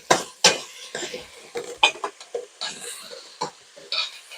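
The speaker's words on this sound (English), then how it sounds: "Now we're going to stir in our apple" Apple being stirred into a pot of mulligatawny soup with garlic, a spoon scraping and clattering against the pot in short irregular strokes, close and fairly loud, with no talking.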